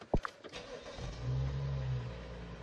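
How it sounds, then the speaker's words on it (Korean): A click, then a gasoline car engine cranks and catches, settling into a low, steady idle that hums on close by. "이제 시동 한번 걸어볼게요"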